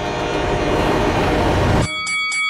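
A heavy freight train of about 6,000 tons rumbles past loudly and close, with rolling rail noise, then a train horn blasts in sharp repeated bursts as the rumble drops away.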